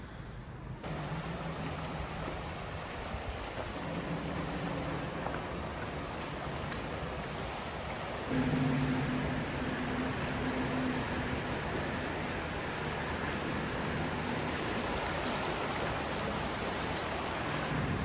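A creek flows steadily over its bed in a continuous, even rush of water that stays at the same level throughout, with no talking.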